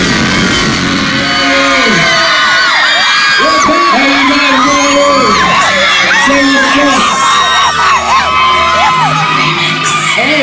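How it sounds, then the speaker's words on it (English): A Dallas concert crowd screaming and cheering on a tour stop, loud and continuous, with many voices whooping and yelling throughout. "Come on, scream."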